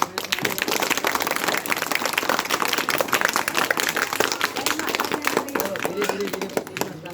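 A crowd at a village school admission celebration claps loudly for the small children, dense sustained applause running throughout with voices talking over it.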